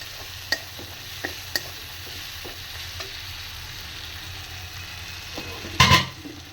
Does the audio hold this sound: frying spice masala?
yes